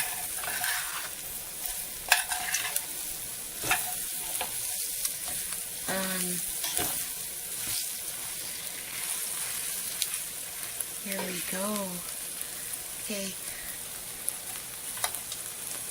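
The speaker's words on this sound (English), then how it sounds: "you can hear it just kind of sizzling there" Steady frying sizzle of Spanish rice crackling in a pan throughout, with occasional clinks of stirring and a few brief spoken words over it.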